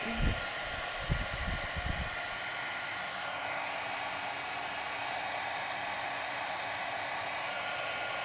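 A heat embossing gun blows a steady, broad whooshing roar of hot air continuously, loud and close, with a few low thumps near the start.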